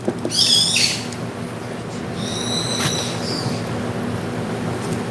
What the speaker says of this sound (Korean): 주변에 새소리도 나고 참 좋은 곳입니다.